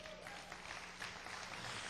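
Congregation applauding for the Lord during a sermon, a steady dense wash of clapping that holds evenly throughout.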